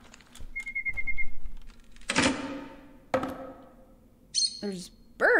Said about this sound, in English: There's birds back here.